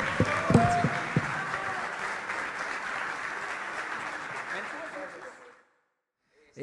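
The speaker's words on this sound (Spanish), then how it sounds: "Un aplauso." Applause from an audience at the close of a three-day photography conference fills the room, dense steady clapping with some voices mixed in before it cuts off abruptly.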